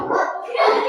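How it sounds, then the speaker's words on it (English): Several dogs bark and yip indoors in a steady, continuous burst, fairly loud and close, overlapping with faint background voices throughout the brief moment. "Sorry about my dogs, guys."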